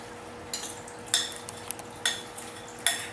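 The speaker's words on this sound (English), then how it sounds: "we're going to go ahead and fold our apples in." A spoon or spatula folds apples into a thick German apple cake batter in a bowl, giving soft, close, wet scraping and a few sharp clinks against the bowl, with no one talking.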